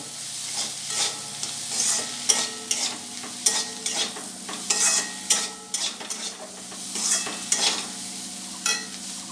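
Spices, red chilli paste and green chillies stir-fried in a pan for a bean-seed curry, with repeated scraping strokes of a spatula over a soft steady sizzle, close and fairly loud, no voices.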